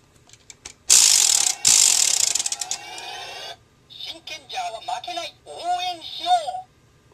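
A spinning disc on a Shinkenmaru toy sword gives a loud ratcheting whir with rapid mechanical clicks, then the toy plays electronic chimes and a short voice-like jingle, close up and alone.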